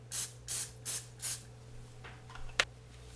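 Canola grease sprayed into a baking pan comes as four quick, evenly spaced hissing bursts, followed by quieter handling noises and one sharp click near the end, with no talking.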